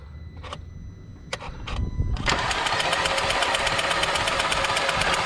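An Audi/VW 2.0T engine with a broken cam chain cranks during a compression test on a dead cylinder: a few clicks, then the starter whirs into a steady, even, loud cranking drone with a fast rhythmic pulse, close by.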